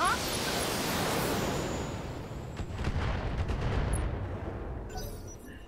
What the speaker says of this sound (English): Let's have another precision strike